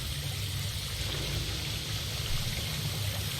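Steady rushing water of a waterfall in the video game The Long Dark, a continuous broad hiss with a low rumble underneath, unbroken for the whole stretch.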